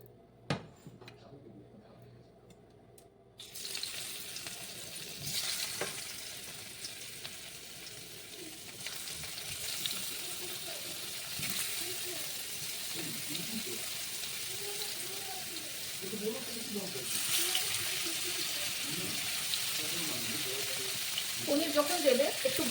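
Paneer fries in hot oil in a pan for an aloo matar curry, a loud continuous sizzle that swells partway through, with occasional stirring clinks and faint talk underneath.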